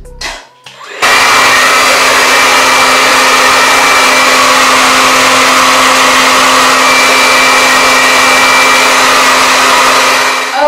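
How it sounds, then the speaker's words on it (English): A blow dryer starts after a brief moment and then runs on a cool, low setting, a loud, close, steady whooshing whine with an even hum that continues unbroken. "I'm going to gently pull my hair and then take the blow dryer and I'm just gonna show you"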